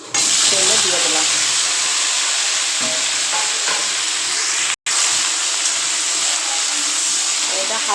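Okra fries in hot oil tempered with black cumin seeds, producing a loud, steady, close hissing sizzle that runs throughout, broken once by a very brief dropout.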